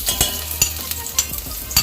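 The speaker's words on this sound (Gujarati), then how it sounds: "બરાબર આપણે તેલમાં સાતળી લેશું" Chopped garlic, ginger and green chillies sizzle in hot oil, with a spoon scraping and stirring the pan in quick, repeated strokes close by.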